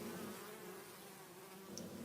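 A close, steady drone of many bees buzzing around a hive, continuous and fairly even throughout, with no talking.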